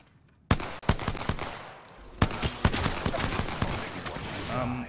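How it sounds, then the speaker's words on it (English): Enemy gunfire in the shooter game Apex Legends: sharp bursts of shots crack in quick succession, loud and close, with rapid volleys continuing after a brief lull while a voice speaks faintly underneath. "The enemies are shooting at me."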